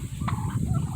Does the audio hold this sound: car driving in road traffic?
no